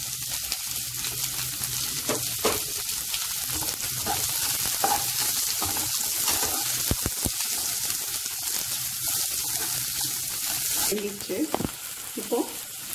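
Green chilies and onions sizzle steadily in hot oil in a pan for homemade wheat noodles, with occasional scrapes and stirs of a spoon under a continuous hiss, close-up and without talk.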